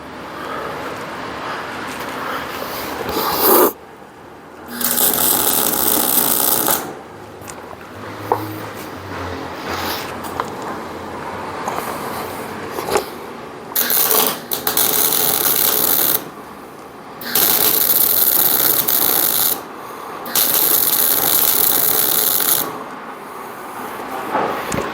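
MIG welding with 0.035 wire on the rear axle spindle of a Ford Cargo 1721 truck produces loud, crackling hissing bursts several seconds long, separated by short quiet pauses, close up.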